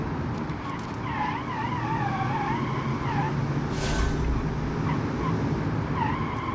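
Car engine in the BeamNG.drive driving game, tested as a Hellcat rival, revving hard under heavy acceleration with a dense, continuous roar and brief tire squeal or skid.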